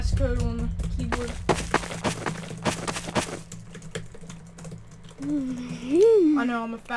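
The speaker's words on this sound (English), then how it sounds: "I'm typing in the passcode on the keyboard." Rapid clicks of a computer keyboard as a passcode is typed in a Garry's Mod tornado survival game, a quick burst of sharp keystrokes followed by someone talking.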